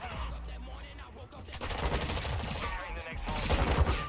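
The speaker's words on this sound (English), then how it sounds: "These bullets are going insane." Rapid automatic gunfire in a video game firefight, dense and continuous bursts of shots filling the scene with no talk over them.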